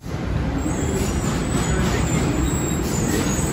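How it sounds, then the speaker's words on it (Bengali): Ride aboard a train in Astoria, Queens, New York, a loud continuous rumble of wheels on rails with a steady low roar and faint high squeal, close and unbroken throughout. "এটি হচ্ছে আমাদের ট্রেন, ট্রেনে উঠে বসলাম"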